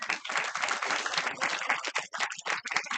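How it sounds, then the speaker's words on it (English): An audience claps in a hall, a dense, continuous patter of many hands that stays steady for several seconds with a brief dip near the end. "Please clap."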